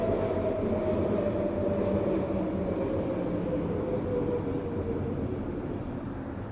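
A train rumbles past steadily, a low continuous roar with a faint high whine, fading slightly toward the end.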